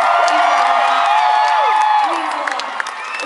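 A concert crowd in Las Vegas cheers and whoops loudly, with shouts and applause swelling near the front and then easing off slightly toward the end.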